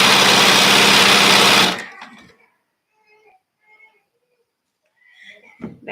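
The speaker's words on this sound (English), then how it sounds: "So, yeah, now it's just a lot of sewing." A sewing machine stitches quilt fabric in a steady, close run for under two seconds, then stops, leaving only faint handling noises.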